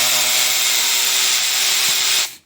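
A power tool spins out the clutch cover bolts on a Honda TRX700XX ATV, a loud, steady close-up whine held for about two seconds before cutting off abruptly.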